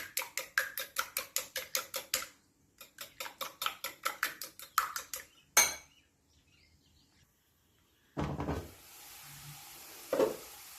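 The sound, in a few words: beating eggs in a bowl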